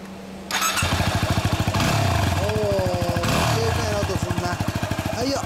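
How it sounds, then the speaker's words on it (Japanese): A 2017 Yamaha WR250R motorcycle with an SP Tadao Powerbox exhaust starts up and runs with a throaty, pulsing idle, revving a couple of times, close by. "エンジン音聞かせてもらえる？"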